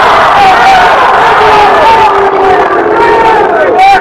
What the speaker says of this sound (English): And we were hearing some choice words over here in the crowd, Marcus.